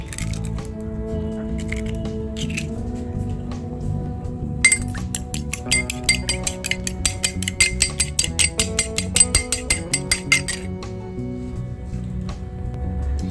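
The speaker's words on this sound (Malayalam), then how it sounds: "അതിലേക്ക് നമുക്കൊരു മുട്ട എടുത്ത് ഒന്ന് ബീറ്റ് ചെയ്തെടുക്കാം" A fork or whisk clinks rapidly against a glass bowl while an egg is beaten for soybean bajji batter, a steady run of close, bright strikes over quiet kitchen background, with no one speaking.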